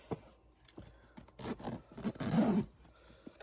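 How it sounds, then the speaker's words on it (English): A YKK metal zipper on a leather tote being pulled, heard as a few short scraping, rasping bursts that swell into one longer zip, close and fairly quiet, with handling knocks around it. "so they are pretty smooth zippers"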